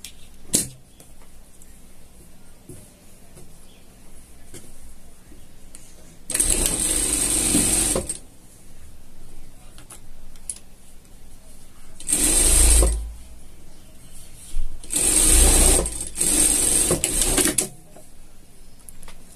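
A sewing machine stitches a denim jacket sleeve closed. Three separate runs of rapid, close mechanical clatter are separated by quiet gaps, and the last run is split into two bursts.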